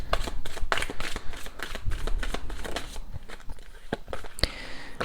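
Tarot cards being shuffled by hand, a steady run of close, crisp riffling and slapping bursts with no talking.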